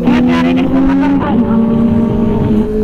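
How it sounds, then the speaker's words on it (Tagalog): A motorcycle engine hums steadily during a ride, its drone carried over a phone call and heard beneath a voice talking throughout. "Rinig na rinig, pati yung motor mo, rinig ko."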